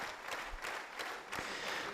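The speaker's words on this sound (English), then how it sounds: "You can hear the sustained and enthusiastic applause from those present" Sustained applause from the audience at a meeting with civil authorities during the Pope's visit to Azerbaijan, heard faintly and distantly as a continuous wash of clapping.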